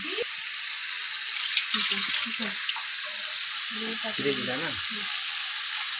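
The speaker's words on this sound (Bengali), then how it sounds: "ভালো করে চিকেনটা দিয়ে ঘেটে নেড়ে এর মধ্যে জল দিয়ে দেবো" Chicken frying and being stirred in a home pan, a loud continuous hiss of sizzling oil with scattered scrapes and clatter beneath it, close and steady, with faint voice-like sounds in the middle.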